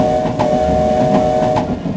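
A Yamaha PSR-E283 electronic keyboard plays its built-in train sound effect: a loud, close synthetic rumble with rhythmic clickety-clack beats and a steady whistle-like tone running through it.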